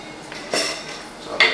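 A spoon scoops milk powder into a shaker, making two brief bright metallic clinks and scrapes over a quiet background.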